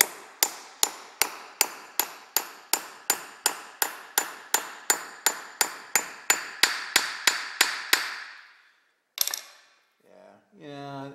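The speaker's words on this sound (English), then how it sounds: "Now I'm going to use a metal hammer on this." Metal hammer blows strike in a steady rhythm, about twenty sharp ringing taps close up, then a pause and a few scraping, rattling sounds.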